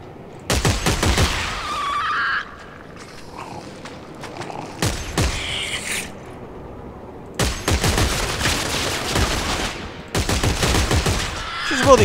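Necromorphs firing guns in the video game Dead Space 3, loud dense bursts of rapid gunfire in several long volleys with brief gaps between, close and harsh, alone without talking.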